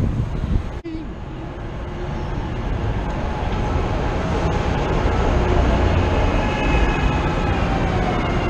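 A train pulls in at the Frankford Terminal platform in Philadelphia: a steady, close rumble of wheels and rails that swells slightly as it arrives, with a brief sharp clank near the start and no talk.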